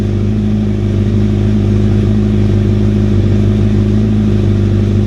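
A motorcycle engine idles after a stator replacement, a loud, steady close rumble with an even, unchanging throb.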